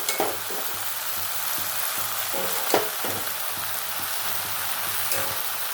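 Prawns sizzle and fry in a pan with a cooked-down base for an echor and potato curry, a dense steady crackle broken by a few stirring scrapes and clatters.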